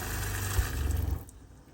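Water runs from the sink faucet of an Arctic Fox 1150 truck camper to fill the drain traps, a steady close hiss with a low gurgling pulse that cuts off near the end, no voices.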